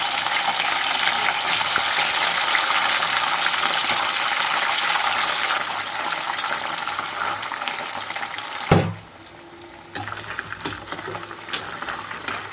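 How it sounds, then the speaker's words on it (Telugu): Chicken pieces fry in hot oil over a medium flame for a Telugu-style chicken pickle, giving a loud, dense, steady sizzle that drops away abruptly near the end, leaving quieter scattered crackles. "ఆయిల్ అంతా హీట్ అయిన తర్వాత చికెన్ మొత్తం వేసి వేయించుకుంటున్నాను"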